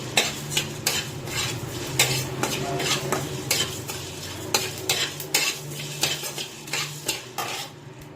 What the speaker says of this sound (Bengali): গরম শুকনো লঙ্কা, জিরে, ধনে। শুকনো খোলায় ভেজে নিচ্ছি।